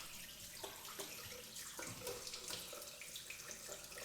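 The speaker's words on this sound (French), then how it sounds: "Une fois que ça c'est fait les gars, je vais rincer." Tap water running steadily into a sink while a beard is rinsed, a continuous faint splashing rush with small irregular splatters.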